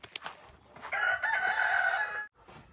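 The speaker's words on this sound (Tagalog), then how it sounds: "pakainin muna natin itong manok" A rooster crows loudly and close by, one long call, with chickens clucking in short bursts before it, outdoors on a Filipino farm at feeding time.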